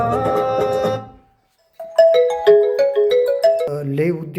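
A phone rings with a melodic ringtone, its tonal stepping notes loud and close, after a stretch of other music fades into a brief silence.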